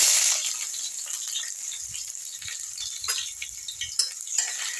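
Sliced onions hiss and crackle in hot oil with panch phoron and dried red chillies. A steady, close sizzle runs throughout, broken by light spoon clicks and scrapes as they are stirred.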